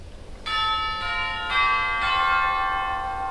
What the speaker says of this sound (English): Got some cathedral chimes as well, which are unenclosed just over there